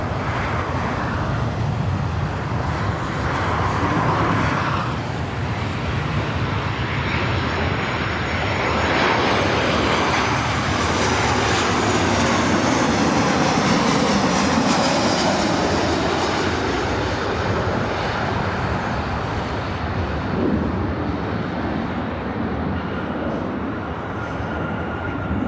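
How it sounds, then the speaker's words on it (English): A Delta Boeing 757 airliner flies toward LAX runway 24 right with a loud, sustained jet-engine roar that swells and shifts in pitch as it passes overhead, with no talk over it. "I spot a Delta 757 heading over here to 24 right."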